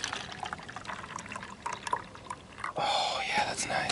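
Coffee poured into a cup outdoors, a trickling then steadier splashing pour near the microphone, with people speaking over the start.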